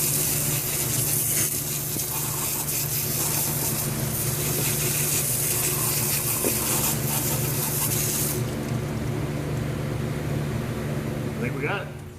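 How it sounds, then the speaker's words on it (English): Garden hose spraying water to rinse dirt and road salt off a Toyota RAV4 front strut, a continuous loud hissing spray that shifts in tone partway, with someone talking over it. "This thing's all covered with dirt and salt. I'm going to rinse it off real quick with a garden hose"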